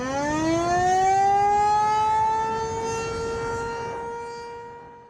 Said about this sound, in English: The outdoor warning sirens are meant to alert those that are engaged in outdoor activities.